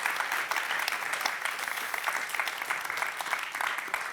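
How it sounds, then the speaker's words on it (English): Warm audience applause fills a theater after a talk, a dense, even patter of many hands clapping at steady volume with no voices over it. "Warm applause for Nancy Foner, Else Schouw."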